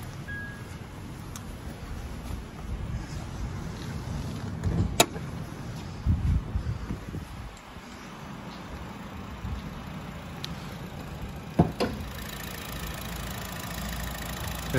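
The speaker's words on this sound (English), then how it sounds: "Lovely, smooth, quiet engine." A Honda Jazz engine idles steadily with a low, smooth rumble, broken by a few soft clicks and knocks nearby.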